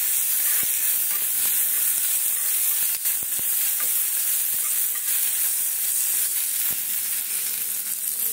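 Curry leaves hit hot oil in a pan for potato curry, giving a steady loud sizzle and hiss with a few small pops and crackles throughout, no voices.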